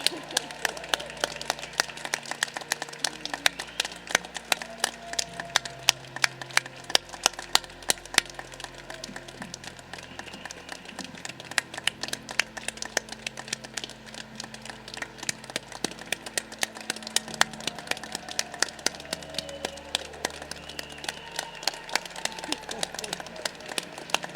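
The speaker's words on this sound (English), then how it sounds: "Another big round of applause for our graduates." Audience applause for graduates at a law school commencement ceremony in Boston, a sustained dense wash of clapping lasting throughout, with a voice speaking over it.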